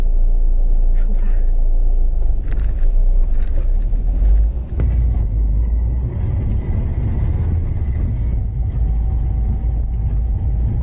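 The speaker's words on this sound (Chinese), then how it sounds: "30千米每小时的速度，穿高跟鞋开车的刹车实验，开始" Car driving at 30 km/h during a braking test with the driver in high heels, a low continuous engine and road rumble with a brief bump midway and faint higher tones, no clear talking.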